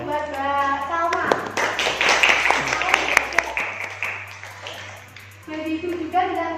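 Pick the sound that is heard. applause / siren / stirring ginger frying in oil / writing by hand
applause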